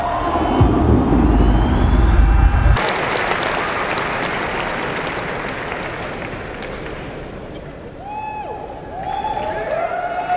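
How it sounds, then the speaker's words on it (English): A large crowd at the E3 2013 PlayStation 4 reveal bursts into steady applause and cheering, a dense wash of clapping that follows a loud low rumble and continues for several seconds. "Sony also drew cheers and applause"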